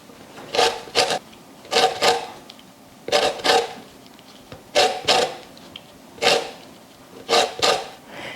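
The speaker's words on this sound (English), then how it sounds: "I just washed the lemons and now we're going to zest them." Washed Meyer lemons are scraped against a zester in short paired rasping strokes, repeated at a steady rhythm, close and fairly quiet.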